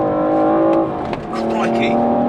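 BMW M235i accelerating out of a hairpin on a test drive, a loud steady engine drone that dips briefly then climbs again, close and continuous.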